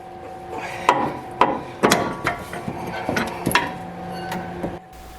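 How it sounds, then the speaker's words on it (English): A wrench works the steering column to steering box bolt on a Jeep Wrangler JK, giving repeated close metallic clicks and knocks in an uneven rhythm. "Here we're working on the steering column to steering box bolt."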